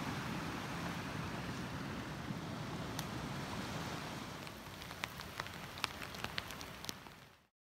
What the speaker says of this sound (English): Just heard thunder and it's raining.